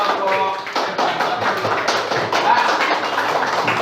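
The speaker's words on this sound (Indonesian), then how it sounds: "Kasih tepuk tangan untuk kelompok" A classroom of students applauds a student group with a burst of quick, dense hand claps close by, mixed with some voices.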